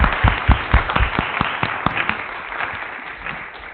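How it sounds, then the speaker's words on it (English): An audience at a talk on agroecological farmers in Puerto Rico claps, starting with several loud, distinct claps and settling into a softer, thinning round of applause that fades toward the end. "Can we give them a big round of applause?"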